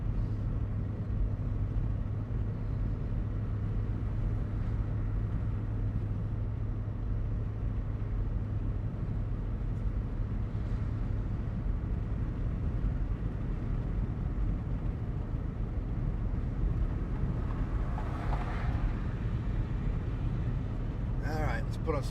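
Steady car interior rumble while cruising on a smooth highway with thinning traffic, a continuous low drone that fills the whole stretch, with a brief faint rattle near the end.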